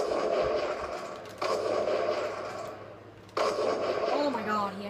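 Sharp gunfire bursts from a video game sniper match, two abrupt loud cracks a couple of seconds apart over a busy game soundscape.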